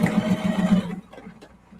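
A sewing machine tacks down the edge of clear vinyl in a short burst of rapid, buzzing stitches up close, then stops, leaving faint handling noise.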